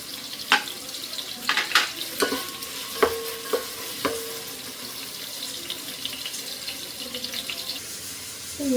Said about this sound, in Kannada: ಎಣ್ಣೆಯಲ್ಲಿ ಫ್ರೈ ಮಾಡ್ಕೊಳ್ಳೋಣ.